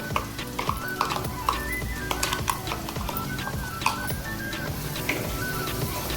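A ground onion and coconut paste with turmeric and chopped tomato is sautéed over a medium flame for clam curry: loud close sizzling with repeated rhythmic scrapes and taps of a spatula stirring against the pan.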